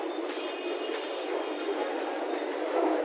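A train rumbles steadily at Muzaffarpur Junction railway station in Bihar, a continuous broad rolling noise with faint metallic whine, fairly loud and unbroken throughout.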